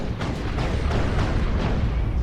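Autocannon fire in the Dawn of War 2 strategy game during a Space Marines versus Imperial Guard battle, steady thudding bursts roughly every third of a second over a continuous loud battlefield rumble.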